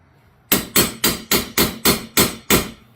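A hammer taps a half-inch copper pipe fitting down over a nut, eight sharp, evenly spaced blows in about two and a half seconds, close and loud, no speech.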